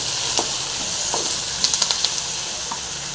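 Radish leaves fry in a pan with an even, hissing sizzle, punctuated by a few light clicks and pops as they are stirred; close and steady, with no talking.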